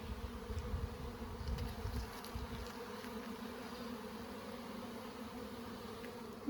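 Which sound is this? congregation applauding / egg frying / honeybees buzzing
honeybees buzzing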